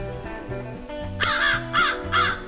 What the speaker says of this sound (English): Crows.